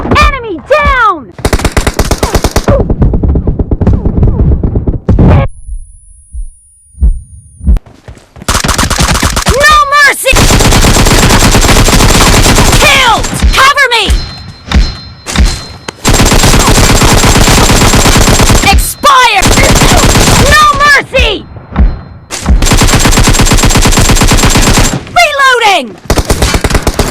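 Rapid bursts of gunfire and grenade blasts from a video game come loud and close in repeated volleys, broken by short quiet gaps.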